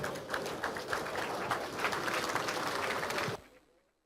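Applause from a banquet audience honouring a state governor, a dense steady wash of clapping for over three seconds that cuts off sharply near the end.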